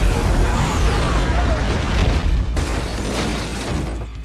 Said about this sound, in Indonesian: menyebabkan ledakan yang sangat besar